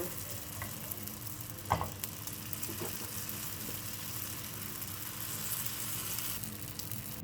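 Filo pastry bricks filled with minced meat frying gently over low heat, a quiet, steady bubbling sizzle with occasional faint taps and stirring sounds nearby.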